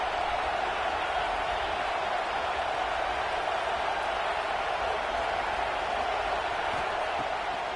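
Steady, dense roar of a stadium crowd in the College Football 26 video game, a continuous wash of cheering and applause-like noise holding level throughout without pause.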